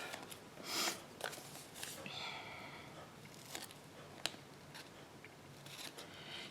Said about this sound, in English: Some paper snips. Go ahead and cut this excess off.